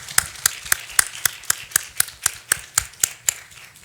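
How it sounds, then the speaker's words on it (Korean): Church congregation clapping together in a steady rhythm after a New Year blessing, about fifteen sharp, evenly spaced claps close by with a faint murmur of voices beneath. "우리 다 함께 축복하며 박수 한번 하도록 하겠습니다"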